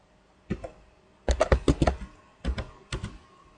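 Keys on a computer keyboard tapped in short clustered bursts, a quick run of close clacks followed by a few separate keystrokes, crisp and near with no talk.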